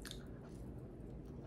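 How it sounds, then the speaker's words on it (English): Soft, close mouth noises of someone chewing food, quiet squishy bites and faint crunching for a moment with no talking. "I've been chewing on my left side"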